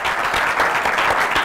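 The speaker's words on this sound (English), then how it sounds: "they're clapping for you" Studio audience applause on a talk show, a dense continuous burst of clapping that stays loud and even throughout its short length, with no talk.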